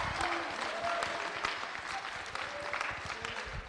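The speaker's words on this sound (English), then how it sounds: "Don't hold applause to the end." Audience applause in a school gathering for a senior night, steady clapping filling the room at a moderate, somewhat distant level with faint crowd murmur beneath.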